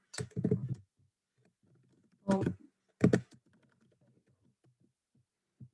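Three short bursts of typing on a computer keyboard, each a quick cluster of clicks separated by pauses, fairly close and clear, with faint background noise and no talk.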